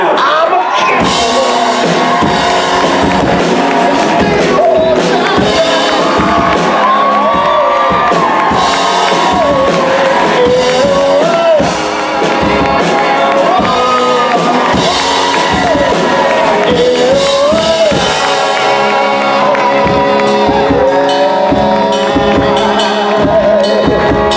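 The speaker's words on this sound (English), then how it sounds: "Ladies and gentlemen, round of applause, please, for Mitch, Keegan, Jake, and Jeff!" A convention audience cheers, whoops and shouts for actors Mitch, Keegan, Jake and Jeff at a Chicago Creation fan event, a loud continuous crowd roar with music-like tones running underneath throughout.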